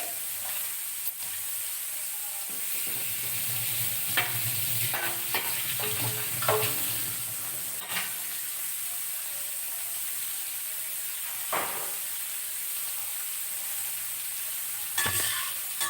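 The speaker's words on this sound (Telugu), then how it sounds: "ఉల్లిపాయలు కూడా బాగా" Large onions fry in a pan for a sprouted moong dal curry, giving a steady hissing sizzle with intermittent spoon stirring and scraping clatter close by, continuing for a long stretch without talk.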